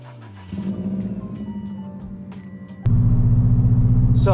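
A manual transmission car pulls away, its engine rumbling and rising in pitch through the first gear, then jumping to a louder, steady drone as it keeps driving.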